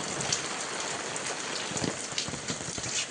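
Steady rain pours in a Konkan village at the start of the season, a thick continuous patter of drops striking nearby surfaces, fairly loud with no voices.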